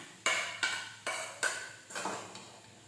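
A spoon scrapes and stirs leftover cooked rice into a cooking pan in a home kitchen. There are about six distinct scraping strokes at a steady rhythm, close and fairly loud, with no talk.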